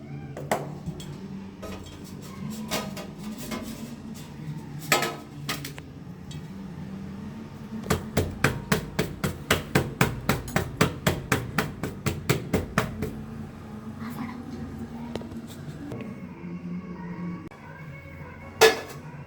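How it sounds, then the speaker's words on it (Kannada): Several metal and ceramic clatters as a plate is set over a cake pan and the pan is flipped upside down, with a long run of quick, regular taps in the middle and one sharp knock near the end, over quiet room noise. "ನಾನೀಗೊಂದು ತಟ್ಟೆ ತೊಗೊಂಡಿದ್ದೀನಿ, ತಗೊಂಡು ಉಲ್ಟಾ ಮಾಡ್ತಾ ಇದ್ದೀನಿ"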